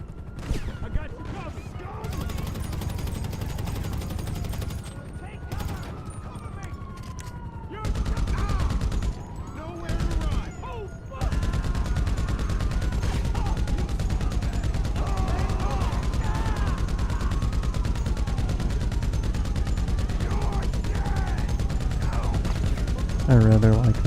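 Bursts of gunfire crackle through a GTA V street shootout: rapid automatic volleys and scattered single shots mix with engine drone, impacts and a rising siren-like whine, steady and close over about twenty seconds.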